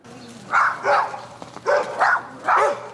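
A dog barking indoors or near a house in the Bronx, three short pairs of loud, close barks in a quick rhythm over a low steady hum.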